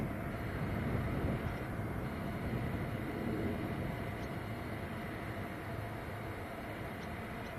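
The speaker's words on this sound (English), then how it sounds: "Yeah, you have two Dreamliners taxiing out now." Steady broadband roar of two Boeing Dreamliner airliners taxiing at Manchester Airport, a continuous distant jet engine rumble with wind noise, no voices over it.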